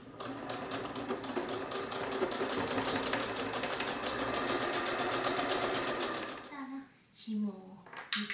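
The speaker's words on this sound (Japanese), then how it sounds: "紐を縫っていきたいと思います。" A sewing machine stitches a fabric bag strap in a fast, even, rattling run for several seconds, then stops and gives a few short bursts. It sounds close at moderate loudness, with a soft voice faintly in the background.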